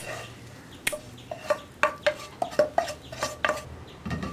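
Sautéed onions and other fried ingredients being scraped into dosa batter for paniyaram, a spoon clinking and scraping against a bowl in quick repeated strokes, close up with no talking.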